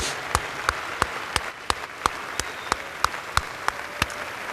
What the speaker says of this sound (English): Would everyone please give a great round of applause for all of our proud alumni